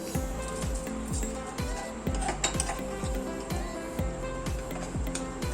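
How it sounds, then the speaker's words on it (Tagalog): Buffalo wing sauce of hot sauce, butter, vinegar, chili flakes and roasted garlic is stirred in a pan, a steady rhythmic scraping and clinking repeating about twice a second over a low constant hum. "Haluing mabuti at hayaang maging consistent ang texture nito"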